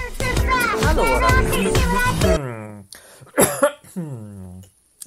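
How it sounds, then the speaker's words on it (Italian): A burst of coughing near the microphone, followed by a few quieter coughs and vocal sounds. "questa tosse è tutt'oggi, incredibile, è iniziato all'alba e vedo che continua ancora"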